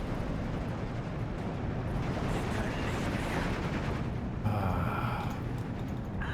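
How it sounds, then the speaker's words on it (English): Continuous rumbling artillery barrage in a strategy war game, a dense, steady roar of distant shell impacts and booms that fills the whole stretch without a break, no talk over it. "Don't want to just die to that artillery."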